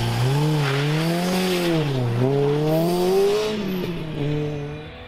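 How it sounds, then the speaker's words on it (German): A race car on a solo training run on a circuit in Portugal, its engine climbing and dropping through revs as it passes, loud and close at first and then fading into the distance. "Beim Trainingslauf ist der René ganz alleine auf der Strecke unterwegs und kann so die ganze Strecke mit einem Tempo fahren."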